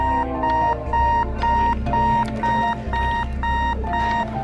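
A Sony Dream Machine clock radio alarm beeps loudly and close by in a steady repeating pattern of electronic tone bursts, continuing throughout without any voices.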